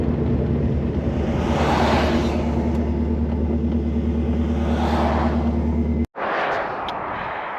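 A V8-swapped Toyota Celica drift car with a suspect drive shaft holds a loud, steady engine drone with a whirring mechanical undertone, then cuts out abruptly for a split second before the rumble resumes.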